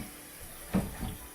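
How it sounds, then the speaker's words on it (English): Tap water runs into a kitchen sink during lard and goat's milk soap making, a soft steady splashing hiss with a brief louder gurgle in the middle. "I'll let the water run a little more"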